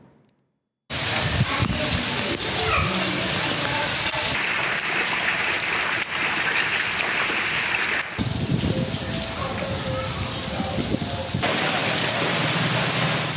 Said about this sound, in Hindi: आज़ाद कश्मीर के शहर कोटली और गिरदनवा में गरज चमक के साथ बारिश शुरू हो गई।